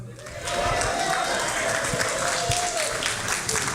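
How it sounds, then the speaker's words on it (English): Brief burst of audience applause for the photographer at a senior center volunteer recognition event, a full wash of clapping swelling after a quiet start, with faint voices underneath. "How about applause for our fabulous photographer?"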